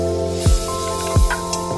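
A little water poured into a hot pan holding dried red chilli, bay leaf, nigella seeds and ground spice paste for potol posto, producing two short, sharp sizzling bursts over a steady hiss.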